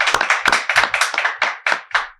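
A small audience gives a welcome to an invited guest with a short burst of clapping, loud and close, in distinct uneven claps from a few pairs of hands over about two seconds.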